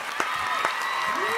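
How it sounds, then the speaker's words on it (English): A live show audience applauding for Michael Morgan, brief clapping and crowd noise with a host's voice talking over it. "Big round of applause for Michael Morgan."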